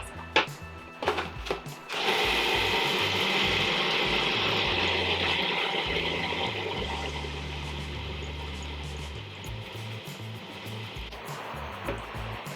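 A food processor whirs steadily for about nine seconds as it mixes nut-free, dairy-free raspberry crumble bar dough, its loud motor slowly dropping in pitch, with clicks and handling noises before it starts and after it stops.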